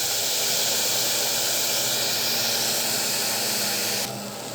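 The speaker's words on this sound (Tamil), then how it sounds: "சேர்த்துட்டு நல்லா வதக்கி கொடுக்கலாம்." Rice and lentils sauté in a hot pan with a steady, close, loud hiss that holds evenly before dropping away sharply near the end.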